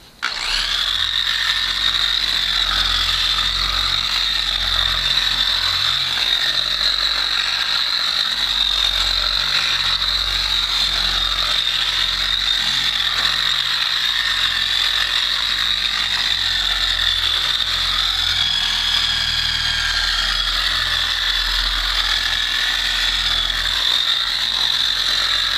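An electric buffer runs steadily as it applies wax to a 270 Hallett, holding a continuous whirring drone with a high-pitched motor whine that stays loud and even throughout, with no talking.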